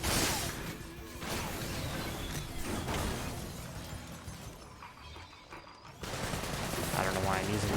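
Rapid AK rifle gunfire in the Sunset Overdrive video game, dense bursts of shots mixed with crashes and game action, running almost continuously with a brief lull before a loud resumption, and some talk underneath.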